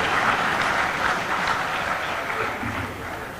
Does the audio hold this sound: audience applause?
yes